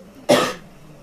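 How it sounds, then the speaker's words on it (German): A single short, sharp cough sounds close and loud from a man playing The Walking Dead, then quiet. "Oh Mann, mein Husten."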